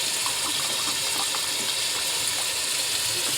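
Water pours steadily into a pot of biryani being cooked, a continuous gushing, splashing stream lasting throughout, close and fairly loud with no talking.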